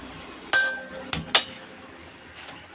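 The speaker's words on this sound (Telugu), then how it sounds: "నెక్స్ట్ కడాయి పెట్టుకొని స్టవ్ ఆన్ చేసుకోవాలి." A kadai pan is set down on a home kitchen stove, giving three sharp metallic clinks and clanks of pots close by, with quieter pauses between them.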